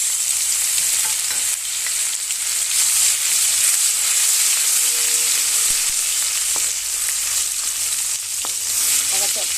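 Ginger paste sizzles in a pan with cardamom, cloves, cinnamon and cumin while it is stirred, a steady close frying hiss with occasional scrapes of the spoon and no talking.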